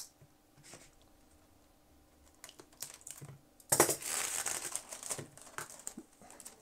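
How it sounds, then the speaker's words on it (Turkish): Adhesive packing tape is pulled from a roll to seal a box, with a few light taps and rustles before a loud, sustained ripping screech that runs for about three seconds, close by and without talk. "kutunun ağzını kapatmak için bir miktar bant alıyorum ben."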